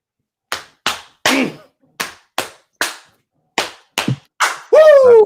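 Sharp, close hand claps, about ten in an uneven rhythm with short gaps, followed by a loud voiced whoop at the end.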